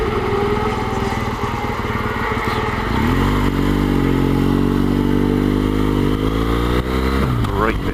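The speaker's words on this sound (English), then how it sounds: "Hear a race going on now. One of the support acts, no doubt." Motorcycles racing in a support event at Silverstone during the 2015 British MotoGP weekend, a loud continuous engine drone that rises into a strong sustained whine from about three seconds, with shifting pitch as bikes pass.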